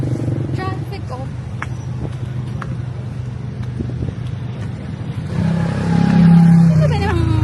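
Street traffic in La Union on a hot day, a steady engine rumble from passing cars and motorcycles, nearby and fairly loud, swelling as a vehicle revs close by toward the end, with people talking over it.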